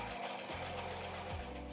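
A sewing machine runs steadily, stitching a narrow seam along the edge of a tote, its fast even motor hum and needle rhythm continuing close and alone, with a brief change in pitch partway through.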